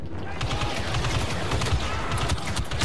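Blaster fire in Star Wars Battlefront 2: a dense, unbroken stream of rapid shots and impacts that stays loud and crowded throughout, like a busy firefight.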